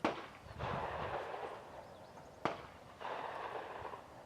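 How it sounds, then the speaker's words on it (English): Two sharp rifle reports from a 47-grain powder load during load development at an outdoor range with a chronograph, one at the start and one midway, each followed by a short decaying rumble, no talk. "Okay, one more shot with 47 grains."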